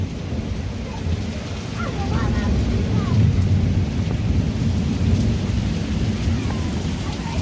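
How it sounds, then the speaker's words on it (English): A massive rainstorm with thunder pours down in a heavy steady roar of rain, while deep thunder rumbles rise and swell beneath it, loud and close with no voices. "You get hit with a massive rainstorm, thunder and lightning."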